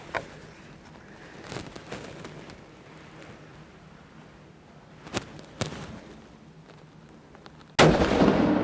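A hunting rifle fires outdoors during a hunt, a single sharp loud blast near the end after quiet waiting with a few faint pops and rustles, cut off abruptly.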